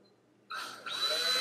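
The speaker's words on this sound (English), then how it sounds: "take a drill bit, 3/16" drill bit, and drill, and put a hole right here" A power drill with a 3/16-inch bit bores a hole for mounting a cube to a wall, starting abruptly after a short quiet gap and whining steadily, rising in pitch and loudness partway through.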